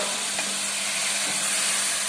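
Vegetables for a brinjal and drumstick curry frying and being stirred in a pan: a loud, dense, even sizzle with faint scraping from the stirring.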